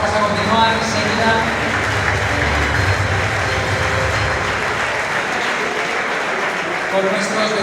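A crowd claps through a brief round of applause at an awards gala for a popular running-race circuit, dense and steady at first, then thinning slightly, with some voices mixed in underneath.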